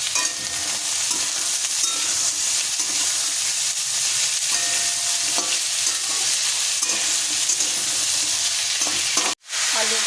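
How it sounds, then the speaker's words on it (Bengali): Potatoes and pointed gourd frying with browned onion in a pan give a loud, continuous sizzle with stirring and scraping throughout. "এবার আলু দিয়ে দিচ্ছি আর পটলগুলোও দিয়ে দেবো একসাথে ভেজে নেবো"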